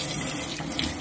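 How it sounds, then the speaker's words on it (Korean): Water runs from a tap in a steady, close hiss while natural pine mushrooms are rinsed beneath it in a brief wash. "자, 씻어 보겠습니다."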